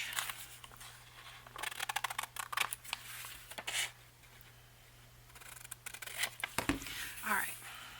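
Scissors cutting paper board for an envelope journal cover, a run of short crisp snips and rubbing handling noises, close and fairly quiet over a low steady hum.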